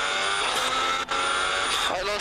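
Formula 1 car engine in the F1 2018 video game, losing power during Abu Dhabi qualifying, a steady loud harmonic whine running throughout with a brief dip and shifting pitch near the end, under speech.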